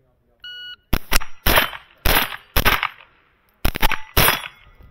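A sharp electronic shot timer beep sounds once on a shooting range, then a rapid string of loud, close gunshots follows in uneven bursts.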